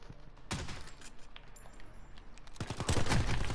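Video game gunfire from a long-range gun: a couple of sharp shots early on, a quieter stretch, then a rapid, louder cluster of shots close together near the end.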